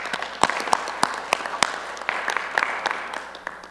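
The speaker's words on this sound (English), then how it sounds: "If we could give Chief a round of applause." A round of applause fills a town council meeting room in Florence. Separate sharp claps stand out from a thinner crowd clapping, which gradually tapers off.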